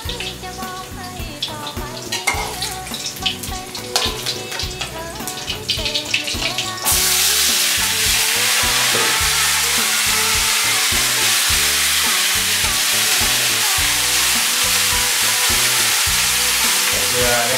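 Vegetables stir-frying in a wok of hot oil, a loud, steady sizzle that swells sharply partway through and keeps crackling densely to the end.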